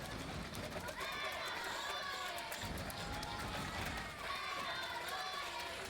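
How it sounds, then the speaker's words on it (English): Spectators at an FTC robotics match in the 2016 West Silicon Division cheer and holler in a loud, steady arena roar, with a commentator talking over the noise. "Oh, look at the crowd getting sassy over there."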